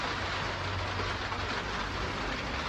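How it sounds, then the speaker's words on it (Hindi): A steady, loud downpour of heavy rain fills the air with a continuous dense hiss, unbroken and without any talking. "हमें वापस आना पड़ा क्योंकि बहुत ज़्यादा बारिश हो गई है"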